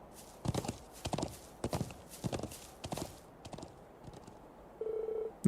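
Hooves clip-clopping in the video game Trails of Cold Steel 4, a series of distinct paired hoofbeats in a steady walking rhythm that fade out, followed by a short tonal beep.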